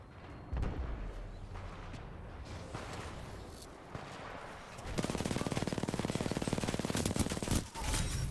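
In the PC shooter Titanfall 2, a 40-round automatic gun fires a long, steady, rapid burst. Rougher, irregular gunfire and battle noise come before it, and the shots stay fairly close and loud.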